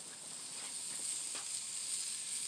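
Andouille sausages sear on a charcoal grill, a steady close hiss and sizzle with faint crackles and pops, no voices.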